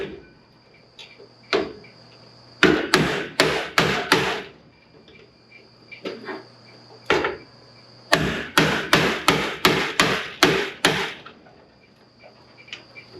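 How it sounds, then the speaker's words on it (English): A hammer strikes a spring-loaded hand impact driver to loosen a screw on a 1973 Challenger, sharp metallic blows in two quick bursts, four or five strikes then seven or eight, ringing close and loud, with a steady hum underneath. "It's spring loaded, and then you bang it with a hammer."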